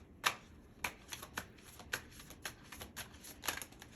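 Tarot cards being shuffled by hand give a steady series of soft, papery riffles and flicks, each a sharp burst, repeating every half second or so at a modest, close level with no voices.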